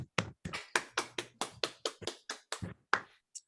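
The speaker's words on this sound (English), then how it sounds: "One more round of applause for both of you" Hands clap in slow, evenly spaced, separate strikes at a poetry reading, about a dozen sharp claps close by, as from a small audience or a single person, with no voices.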